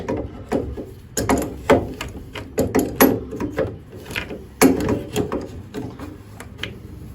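Parts on the water inlet section of an Airfel Digifel Premix combi boiler being opened, heard as a run of close, irregular clicks, knocks and scraping mechanical rattles with no speech.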